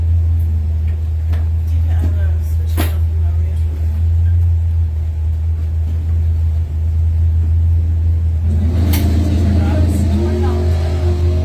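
A street-legal Camaro roars down a drag strip at a night street-racing event, a loud steady engine drone with crowd noise and an announcer talking over it, a second burst of revving near the end.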